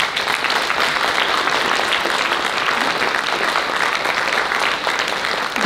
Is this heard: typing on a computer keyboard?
no